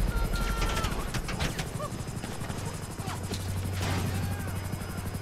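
Helicopter rotor in GTA 5, a steady rhythmic chopping drone running under game noise and some voice activity, with a low engine hum rising partway through.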